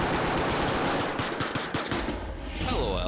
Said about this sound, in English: LOL, they are shooting each other.